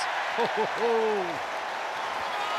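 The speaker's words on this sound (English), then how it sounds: "Home crowd are going to love this." Rugby home crowd at a Leicester versus Ulster Heineken Cup match, a steady broad roar of cheering and applause filling the stadium while a commentator talks over it.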